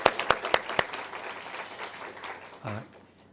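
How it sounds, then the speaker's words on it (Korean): Church congregation applauding during a Sunday worship service, a few loud distinct claps at first blending into a dense wash of clapping that fades out, with a brief low voice near the end. "우리 조생 한번 인사할 때 한번 박수 해주시기 바랍니다."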